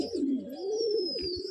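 Pet pigeons cooing, a soft close warbling coo running through the short stretch with a faint high tone behind it.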